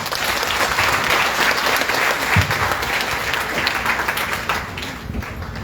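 Applause from an audience at a government jobs event, a dense, even wash of clapping sustained throughout at moderate distance, with no clear voices over it.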